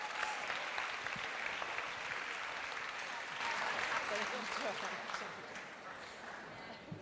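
An audience at a mothers' awards ceremony gives sustained applause, steady and full for several seconds before thinning out, with a voice faintly present beneath it.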